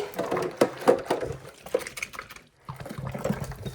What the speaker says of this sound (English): let's give it a good rinse out because I don't want a mouthful of soap